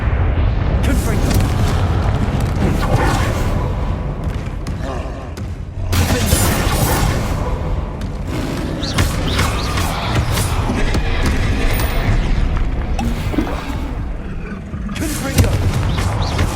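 Repeated Confringo fire spells blasting in Hogwarts Legacy amid a dense, continuous wash of booming explosions and combat noise, loud throughout with several sharp bursts.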